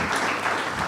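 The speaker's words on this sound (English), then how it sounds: "Please keep clapping as she takes her seat." Brief burst of dense crowd clapping at a Nigerian Bar Association law week session, filling the moment evenly with no voices over it.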